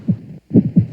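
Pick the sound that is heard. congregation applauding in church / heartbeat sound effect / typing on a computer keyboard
heartbeat sound effect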